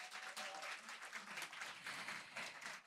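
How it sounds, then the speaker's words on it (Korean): Audience applause at an outdoor Democratic Party rally for Seoul's local elections: a steady wash of many hands clapping together, fairly distant and soft, holding for a few seconds without a break. "큰 박수 부탁드립니다"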